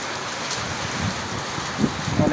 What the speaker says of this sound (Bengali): মুষলধারায় বৃষ্টি হইতেছে।